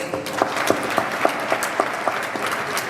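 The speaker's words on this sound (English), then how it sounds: "Please, a round of applause." An audience applauds at a formal ceremony in Ghana, steady clapping from a modest crowd with a few sharper, evenly spaced claps standing out nearby, no talk.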